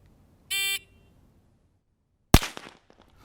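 A shot timer's short electronic beep, then after a pause a single sharp, loud gunshot from a shooting drill that rings out and decays with faint echoes.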